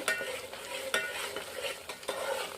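Tomato paste masala frying in oil for chicken curry biryani, with a soft steady sizzle broken by repeated scraping strokes of a spatula stirring the pan, no talk.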